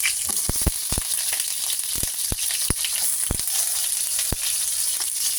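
Garlic and onion sizzle steadily in hot oil for chicken adobo, with scattered clicks from stirring over the constant frying hiss, close and without talk.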